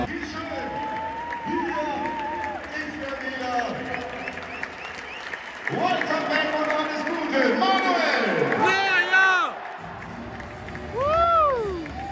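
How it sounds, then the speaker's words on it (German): Football fans in a stadium at a Darmstadt versus Bayern match clapping and cheering, crowd noise and shouts rising and falling while a commentator talks over it. "hier klatschen auch schon einige"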